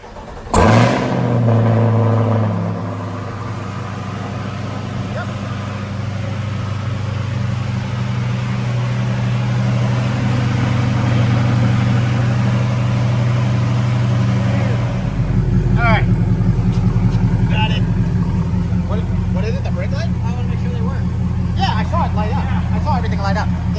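C8 Corvette fitted with a Corsa track edition exhaust, a loud cold start bark followed by a sustained deep droning idle, then rising revs with crackling near the end, with people talking in the background.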